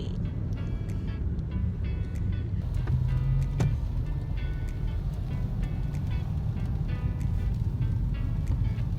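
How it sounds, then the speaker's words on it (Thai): Cars sit in a rainy traffic jam, heard as a steady, moderately quiet wash of road and engine noise with light hiss and a few soft clicks, and no talking. "ถนนรถติดฝนตกเย่"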